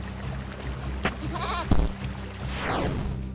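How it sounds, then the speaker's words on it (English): A caged goat in a video game bleats loudly in a short wavering cry, set against game sound effects and a rising whoosh. "A goat! Obviously, the cage is locked."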